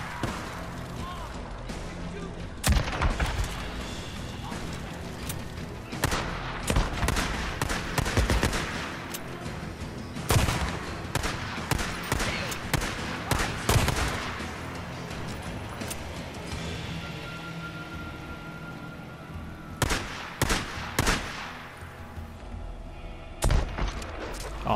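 Video game gunfire in Days Gone: repeated sharp shots and bursts crack out at irregular intervals across a busy, noisy scene, some close and loud, with a person talking in between.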